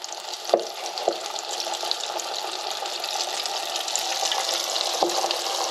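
Whole bluegill panfish smothered in mustard fry in a fryer with a steady, dense crackling sizzle, broken by a few brief knocks and clicks, close and continuous throughout.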